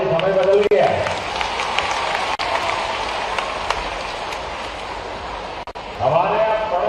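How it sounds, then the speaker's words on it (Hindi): An audience at a Hindi-language talk breaks into sustained applause, a dense, even wash of many hands clapping. A voice speaks briefly at the start and again at the end. "अपने आप के लिए ताली बजाओ"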